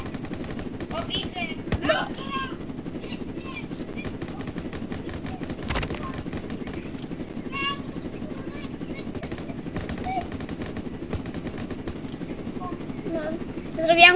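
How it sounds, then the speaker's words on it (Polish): In Roblox Jailbreak, a helicopter's low, constant rotor hum runs under scattered bursts of gunfire, with sharp shots and short rapid volleys spread across fourteen seconds and a louder burst at the end. "Widzisz helikopter?"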